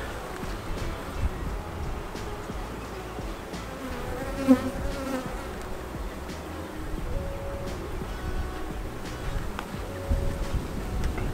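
A continuous droning hum of many honeybees buzzing close by around an open hive during an inspection, steady and dense, with occasional louder individual buzzes passing near.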